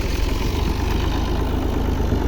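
A tractor engine chugs steadily while pulling a seed drill for sowing mung beans in a field, a close, continuous low rumble with a fast, even pulse and no talk over it.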